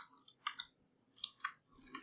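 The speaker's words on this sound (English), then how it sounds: "Let's do some typing here." Soft keystrokes on a computer keyboard come in small clusters of quick, light clicks, faint and close, with brief pauses between bursts.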